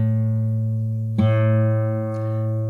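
Guitar sixth and fifth strings are plucked for tuning. Low sustained tones ring steadily and loudly, with fresh pluck attacks about one second apart over the ongoing drone.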